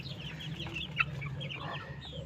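Chickens cluck softly and intermittently against a quiet background hum, with a few brief higher-pitched chirps.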